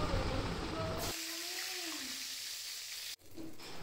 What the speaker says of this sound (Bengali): আর ওই তেলের মধ্যেই দিয়ে দেবো গোটা গরম মশলা, তেজপাতা আর শুকনো লঙ্কা।